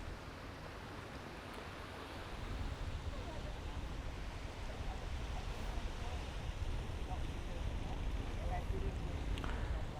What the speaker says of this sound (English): And then of course we have this beautiful beach here.